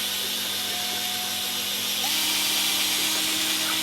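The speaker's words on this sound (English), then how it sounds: "Then I use the paint stirrer on the end of an 18-volt drill." An 18-volt cordless drill spins a paint stirrer to mix nutrient water in a bucket for tomatoes, giving a steady, close whirring whine that shifts pitch slightly partway through.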